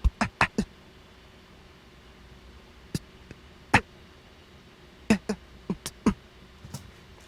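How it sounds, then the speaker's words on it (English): Timbaland-style vocal effects made by mouth into a microphone: a scattered run of short clicks, pops and percussive blips in irregular bursts over a quiet noisy background. "vocal effects, and what those are just me talking in my mic, doing some like Timbaland style stuff"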